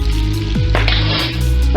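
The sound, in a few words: butter and brown sugar sizzling in a pan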